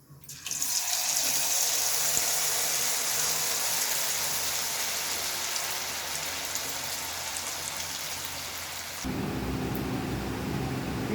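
Cauliflower gobi manchurian pieces sizzle and crackle steadily in hot frying oil, a loud continuous hiss that briefly shifts and thickens near the end, with no talking.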